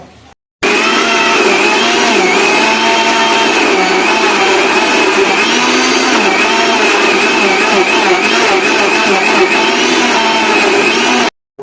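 A kitchen blender whirs a pistachio shake with a couple of drops of essence, a loud, steady motor whine with slight pitch wavering that runs unbroken for about eleven seconds before stopping abruptly.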